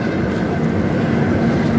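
The 12321 Howrah–Mumbai Mail, heard from a two-tier AC coach as it pulls into Chunar junction, gives a loud, continuous rolling rumble with faint clatter from the wheels on the rails.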